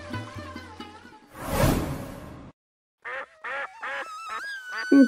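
A brief whoosh, then a quick run of four or five nasal cartoon duck quacks, fairly close, with a short pause before them.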